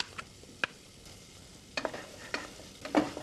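Onions frying in a pan in a home-style Indian gravy preparation, a soft steady sizzle broken by several scraping stirs of a spoon against the pan, close and fairly quiet, with no talking.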